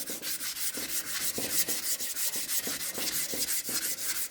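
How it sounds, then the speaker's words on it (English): Hand sanding car paint with 320-grit paper wrapped on a block, a steady rhythmic rasp of back-and-forth strokes, close and fairly loud, with no voices. "Using 320, applying even pressure,"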